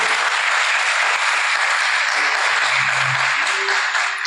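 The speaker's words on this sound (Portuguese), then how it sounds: "aplauda o Senhor" A church congregation applauds during a Sunday service in Curicica, with dense sustained clapping throughout and a few faint voices and tones rising briefly beneath it.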